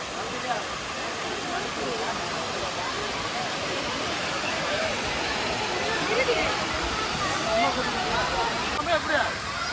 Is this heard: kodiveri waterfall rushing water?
yes